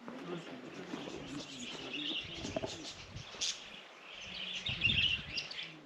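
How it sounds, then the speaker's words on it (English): Birds coo and chirp faintly from down in a canyon, soft calls scattered through the quiet air while people talk nearby. "You can still hear the birds down there."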